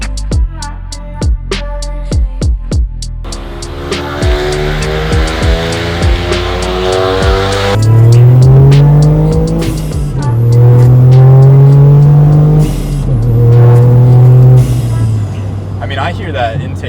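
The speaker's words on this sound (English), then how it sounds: "I hear that intake sound so much now." A Toyota GR Corolla fitted with a K&N cold air intake revs loudly nearby, the engine note climbing and falling through several strong pulls after a run of rapid clicks and ticks.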